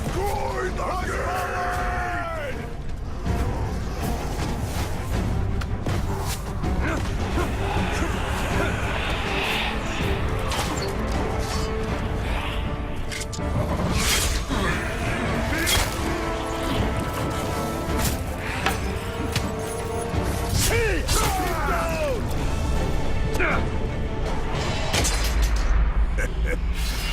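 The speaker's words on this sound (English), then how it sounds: "Destroy the gate!" A gate being smashed during a siege in Middle-earth: Shadow of War: heavy booming impacts and crashes amid a roaring, shouting army, with the dense battle din going on continuously throughout.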